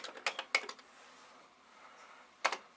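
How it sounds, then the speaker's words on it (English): A few sharp, close bursts of keyboard typing made while standing in a Commodore computer workshop, with a cluster of quick clicks, a long pause, then another short burst. "I'm not good at typing when I'm standing"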